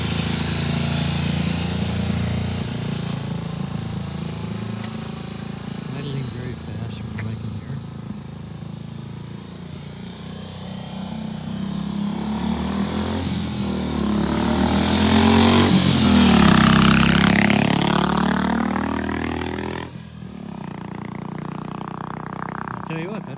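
A motorcycle engine without a battery rumbles continuously nearby, idling roughly and swelling louder for a few seconds before settling back down.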